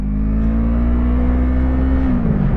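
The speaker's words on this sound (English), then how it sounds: "I'm not surprised at this traffic" Car engine hums steadily on a city street near Little Five Points, a sustained close drone that shifts pitch near the end, like a vehicle moving through dense pre-Christmas Monday traffic.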